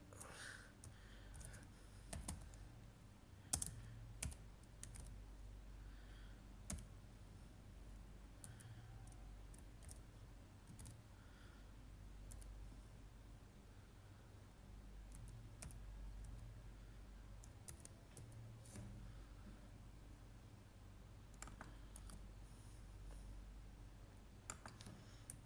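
Soft keystrokes on a computer keyboard patter steadily for about twenty-five seconds while a Java program is written, quiet and close with occasional sharper clicks and no talk.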